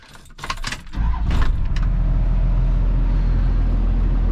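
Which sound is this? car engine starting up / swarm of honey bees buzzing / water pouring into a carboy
car engine starting up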